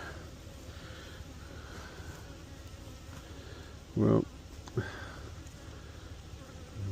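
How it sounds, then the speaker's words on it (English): Bees buzzing around a beekeeper at a goldenrod and sycamore apiary, a faint steady hum close by with a louder brief burst as one passes near, a short spoken word in between. "so I'm all about saving the bees, but if I'm gonna get stung by one in my face"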